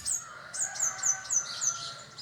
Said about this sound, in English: You can see a small bird which is making some different sounds.